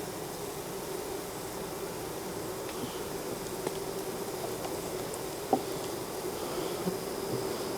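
Honeybees buzzing steadily around an open hive in a bee yard, a dense continuous drone with a few faint clicks and knocks, no talking.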